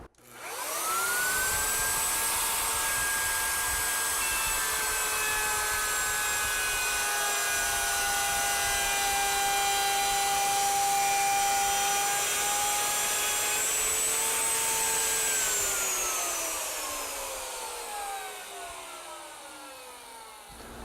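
A power saw cuts a dado groove through 3/4 inch oak, a steady high spinning whine that starts abruptly, holds evenly for about fifteen seconds with no talk, then winds down as the blade slows.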